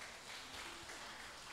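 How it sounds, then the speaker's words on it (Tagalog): Church congregation clapping at a Sunday worship celebration, a short dense burst of applause heard from within the room, fairly soft and even, with no talking. "Pwede po bang malakas na palakpak para sa ating Diyos?"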